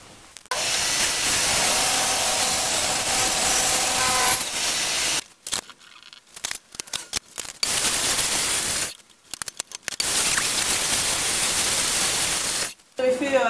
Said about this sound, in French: je vais couper une bande de 11 mm